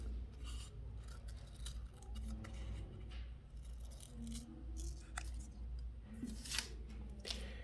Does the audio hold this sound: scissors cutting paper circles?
yes